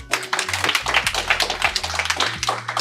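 A small group gives a quick round of applause, with close, uneven hand claps in a brisk rhythm over roughly three seconds and a low hum underneath.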